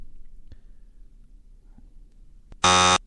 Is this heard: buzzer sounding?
yes